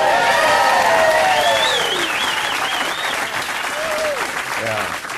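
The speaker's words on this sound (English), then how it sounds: "It's a round of applause from people going, how the hell do you do that?" A comedy club audience applauds loudly and steadily, with whistles and cheers rising over the clapping, then thinning a little at the end.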